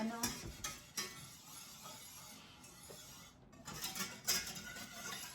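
Flour being stirred into turkey drippings and vegetable-potato cooking water in a pan for Christmas gravy, a soft scraping stir with faint sizzle and a few utensil knocks against the pan, close and steady.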